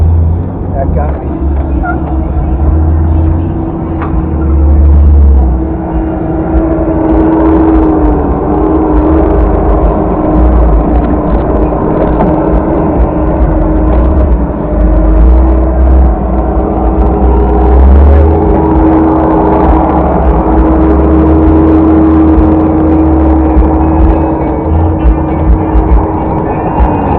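Jeep grinding along a beach obstacle course in third gear, four-wheel low: a steady, close low engine drone with a rumbling undertone and small surges throughout, people talking over it.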